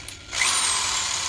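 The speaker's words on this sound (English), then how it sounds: "So I can choose an electric drill" An electric drill fitted with a mixing paddle spins up in a bucket of ceramic glaze for test tiles, starting after a brief quiet moment and then running as a steady, close, high-pitched whir.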